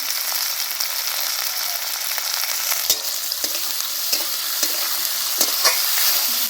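Carrots, cauliflower and cabbage sizzle steadily in a hot pan, with a spatula scraping and clicking at irregular moments as they are stirred, close up and without talk.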